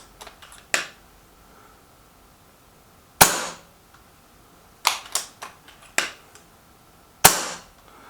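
A Milbro XS58 Supergrade slingshot fires pellets over a chronograph. Sharp, loud snapping releases ring out at irregular intervals, some alone and some in quick clusters, with quiet gaps between them.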